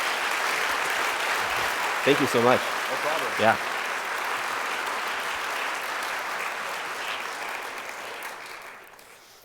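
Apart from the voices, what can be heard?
audience applause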